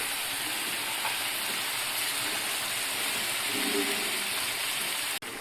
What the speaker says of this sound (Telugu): ఇప్పుడు కొంచెం వాటర్ వేసుకోండి.